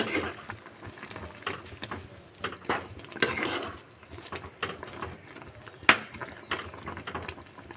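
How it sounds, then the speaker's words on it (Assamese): Tomato jam being stirred in a pot after sugar and jaggery go in, a spoon scraping and clinking against the pot in irregular strokes, close and fairly quiet, with one sharper knock near the end. "চেনি আৰু গুড় দিয়াৰ পিছত মই অকণমান লৰাই দিছোঁ।"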